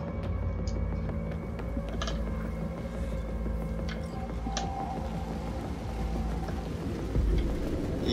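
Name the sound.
rain falling in a city, from a video game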